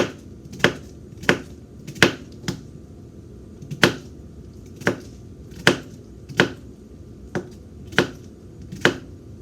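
Kitchen knife pressing down through a cucumber onto a cutting board, a series of about ten sharp, close chopping clicks at an uneven, unhurried rhythm over a quiet room hum, with no talking.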